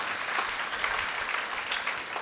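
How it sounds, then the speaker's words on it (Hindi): A congregation applauds at a Catholic Easter Sunday Mass in church, with steady, moderately faint clapping from many hands throughout. "भरपूर तालियों में इन लोगों को मुबारकबाद पेश करते हैं।"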